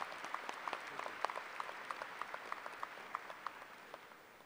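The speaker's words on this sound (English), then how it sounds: "Please give all of our regents a round of applause." Sparse, thin applause from a commencement audience honoring university regents, scattered claps at a fairly steady pace, quiet and a little distant with no voices over it.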